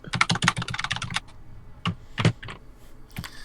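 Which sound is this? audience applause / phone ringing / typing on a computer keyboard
typing on a computer keyboard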